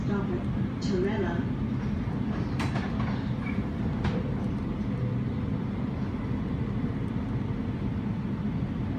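A Sydney passenger train rumbles steadily along the rails with a constant low roar, faint clicks and squeaks above it, and no break in the noise.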